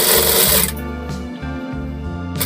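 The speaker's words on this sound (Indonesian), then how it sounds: "Nah, kita bikin jahit double." A sewing machine stitches a men's shirt collar close up, a loud steady whirring rattle that stops and starts in short bursts as the seam turns, no talk.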